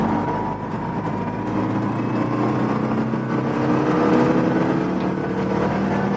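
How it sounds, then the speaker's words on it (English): A Citroen 2CV's small engine revs loudly and steadily nearby, its pitch climbing and then shifting as the car changes from first into second gear. "In first gear. Giving it revs, up to the mark, into second."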